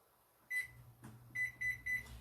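A kitchen timer being set gives a series of short electronic beeps, one then three in quick succession, close and clear over a quiet room.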